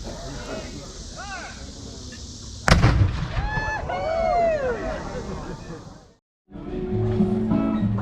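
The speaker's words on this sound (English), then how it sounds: "as they get ready to fire that cannon" A single loud cannon boom at a sunset ceremony in Branson, Missouri, cuts through a chattering crowd and birdsong, followed by lingering noise and voices resuming after a brief silence.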